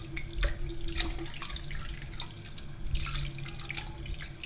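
Tepid tap water runs steadily into a sink as a wool diaper cover is rinsed, a continuous splashing flow with brief drips, close and fairly loud.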